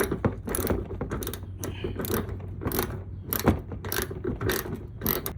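A ratchet wrench unscrewing bolts on a 2009 Ford Mustang bumper, rapid close clicking in bursts with brief pauses between strokes, no talking.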